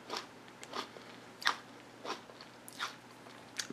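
Crunching bites of a baked onion, several short crisp chewing bursts spaced irregularly, close and fairly quiet with no voices.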